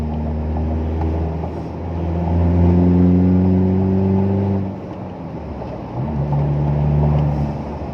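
A car's engine revs up and down while driving during a driving lesson, a close, muffled in-cabin hum that rises, eases off, then climbs again as the pedal is pressed.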